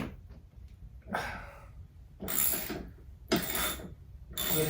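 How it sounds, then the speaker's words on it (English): A 5/8 inch deep socket ratchets a saddlebag bolt on a Harley Softail, giving close, dry clicking bursts in four separate strokes with short pauses between. "using my 5/8 socket, deep socket, just attach and use a little bit"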